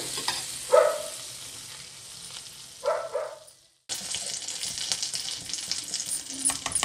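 Butter and oil sizzle in a pan heating for frying Afghani chicken, a soft steady frying hiss with a couple of brief louder crackles and a short pause before the sizzle resumes.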